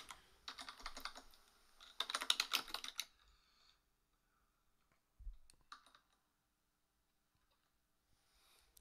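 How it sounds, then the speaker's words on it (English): Close, crisp computer keyboard typing as lyrics are entered, in dense bursts of clicks for about three seconds, then a few scattered key taps and a soft thump amid near silence. "that's the sound of me typing."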